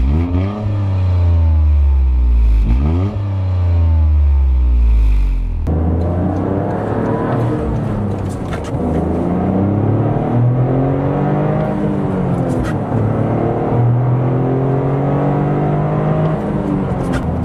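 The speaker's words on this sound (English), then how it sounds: "with the Turbo 3, you know, it has this unique note that's actually quite intoxicating" A Toyota GR Corolla's turbocharged three-cylinder engine revs loudly and close, rising and falling in repeated sweeps, then settling into a sustained, uneven growl as it pulls through the gears.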